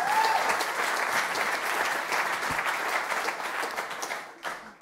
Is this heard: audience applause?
yes